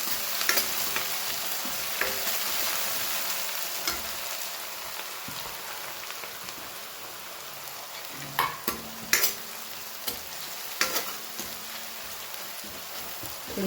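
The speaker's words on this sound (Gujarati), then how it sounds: "થોડી વાર આને આછા ગુલાબી કલરની ડુંગળી થઈ જાય ત્યાં સુધી આપણે એને સોતે થવા દઈએ" Onions with cumin, garlic and green chilies sautéing in a pan, a steady close sizzle with occasional stirring clatters and sharper spatula taps near the end, no voices.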